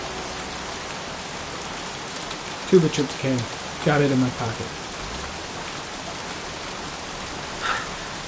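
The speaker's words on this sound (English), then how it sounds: "Goddamn rain. Soaking wet." Heavy rain falls steadily, a constant dense hiss filling the whole stretch while a voice briefly speaks over it.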